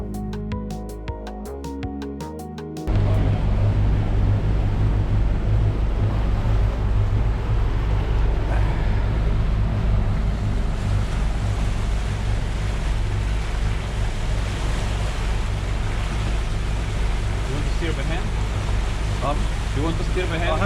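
A Lagoon 420 catamaran motors down Chesapeake Bay on its engines: a steady, loud low drone with continuous wash of waves and wind, starting abruptly after a brief different sound at the beginning.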